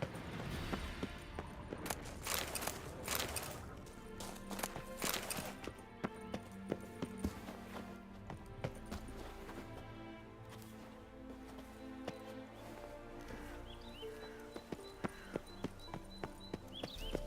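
Hooves of Roach, Geralt's horse in The Witcher 3, clip-clop in a steady rhythm close by, mixed under dense game music and ambient effects, with brief sharper clatters toward the end.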